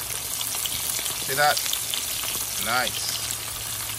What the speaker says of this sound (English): Winter time we fry fish outside.